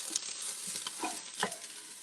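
Onions fry in a pan with a steady, close hiss of sizzling, broken by a few soft scrapes as they are stirred, and no voices.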